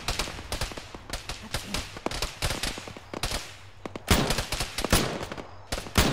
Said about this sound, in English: there's EI East guys that are shooting at us